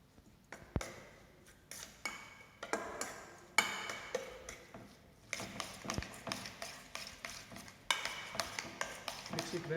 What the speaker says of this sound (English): Mix it well so that all the spices get mixed well.